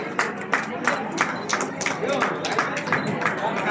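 Audience clapping at a Women's Day celebration event, steady crowd applause with scattered individual claps over several seconds, mixed with background voices.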